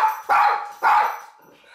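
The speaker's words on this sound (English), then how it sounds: "Why are you barking at me?" Two sharp, loud dog barks close by, about half a second apart, followed by a quieter trailing yip.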